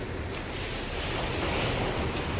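Sea waves break on a beach after a low-pressure system, a steady, loud roar of surf mixed with wind buffeting the microphone, with no voices.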